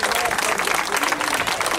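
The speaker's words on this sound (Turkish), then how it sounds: "minik pehlivanlara da bir alkış" Applause for young wrestlers at a traditional Turkish wrestling festival, a crowd clapping steadily and densely throughout, fairly close, with voices mixed into the noise.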